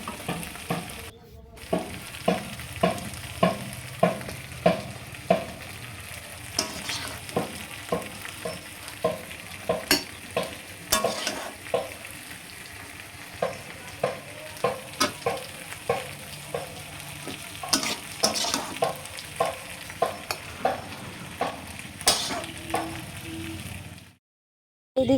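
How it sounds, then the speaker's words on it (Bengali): Potatoes and vegetable stems sizzle in a hot pan of oil with spices while a spatula stirs them in a steady rhythm of scraping strokes over the continuous frying hiss, close and alone without talk. "আর এদিকে আমার আলু ডাঁটাটা কষিয়ে নিচ্ছি"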